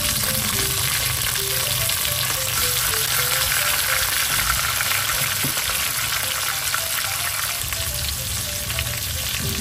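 Pork leg (pata) sizzles and fries loudly in a pan with chili, a dense, steady crackle that holds for the whole stretch without a break.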